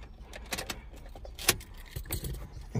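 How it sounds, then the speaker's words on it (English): A Toyota key goes into the ignition and comes back out, making close, quiet jangles and several sharp metallic clicks and scrapes at irregular moments. "So I'm going to put this in the ignition."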